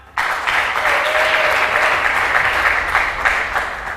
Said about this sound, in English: Applaud, come on.